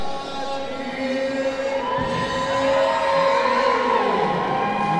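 A big crowd roars at a FightersRep fight night, a loud sustained mass of cheering and shouting with rising whoops and whistles building over several seconds.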